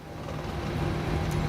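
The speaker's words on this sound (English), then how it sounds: "we have a good engine start" Boeing 737-800 jet engine running just after start in Microsoft Flight Simulator 2024, a steady low rumble and whine that swells slightly, with no voices.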